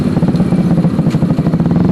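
Yamaha R15 V3 motorcycle fitted with a cheap aftermarket exhaust, idling with a steady low, throbbing burble that pulses evenly throughout, close and fairly loud with no talk.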